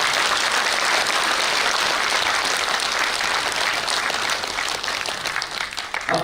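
Dense, loud audience clapping fills a customer meet, sustained for several seconds with no voices over it and tapering slightly near the end.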